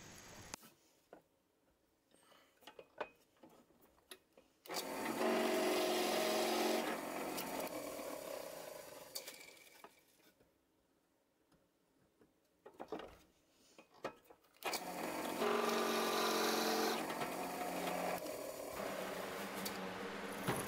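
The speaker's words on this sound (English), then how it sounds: "I'm using a 1-inch Forstner bit to drill these shallow holes" A 1-inch Forstner bit boring shallow holes in wood for a fishing lure coat rack, heard as two sustained loud bursts of drilling, each a few seconds long, separated by quieter handling noise.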